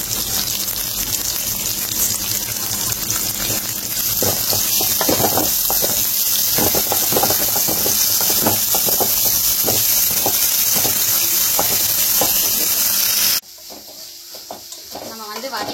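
Sambar ingredients being sautéed in a pan: loud, steady sizzling hiss with repeated scraping stirring strokes in the middle, then the sound drops away abruptly near the end.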